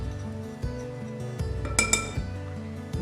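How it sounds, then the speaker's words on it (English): A spoon stirs onion powder, garlic powder and salt in a bowl for pizza dough, giving several sharp clinks against the bowl over soft background music. "Give that a quick stir."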